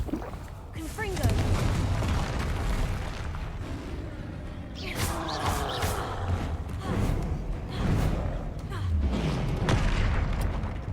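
Booming spell blasts and explosions in a Hogwarts Legacy combat scene, several deep thuds and bursts rising over a rumbling game soundtrack, with a player talking over the action.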